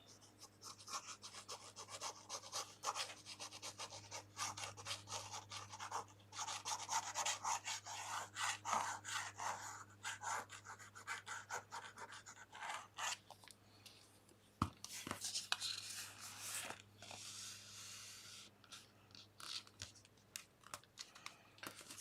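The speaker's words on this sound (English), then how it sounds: "And then going over it with the scraper." Scraper rubbing firmly over leather stretched across a wooden card, a series of dry scraping strokes in uneven bursts, close and fairly quiet, with a few sharper knocks.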